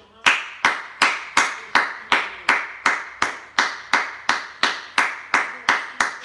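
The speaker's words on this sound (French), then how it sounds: "Je peux applaudir comme ça pendant toute la soirée" A single person claps slowly and deliberately in a sarcastic, mocking rhythm, about fifteen sharp, evenly spaced claps, close and distinct with brief decays between each, with no other sound around them.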